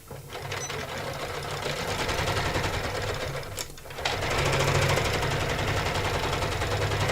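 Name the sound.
embroidery sewing machine stitching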